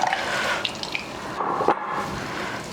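Liquid drains out of a can of beans, a close trickle with light drips and splashes as it empties, heard alone.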